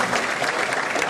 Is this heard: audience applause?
yes